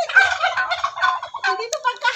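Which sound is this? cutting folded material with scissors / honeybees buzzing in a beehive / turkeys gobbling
turkeys gobbling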